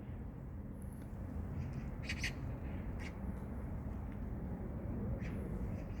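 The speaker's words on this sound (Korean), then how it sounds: "까치들이 막 뭐라고 하는 것 같아?" A few harsh chattering magpie calls ring out in short bursts over steady, loud low rumble, the birds at a moderate distance.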